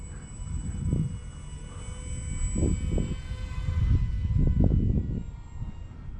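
A small LDARC Tiny Wing 450X RC plane flies overhead with a thin, high motor whine that holds steady. Wind-like rushes swell and fade beneath it.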